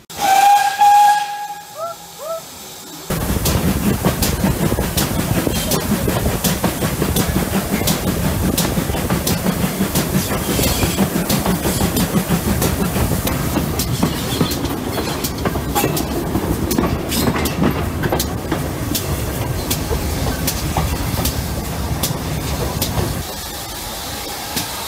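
Steam hisses loudly and continuously with rhythmic chuffing and clanking of a GWR steam train, after a brief whistle-like tone at the start.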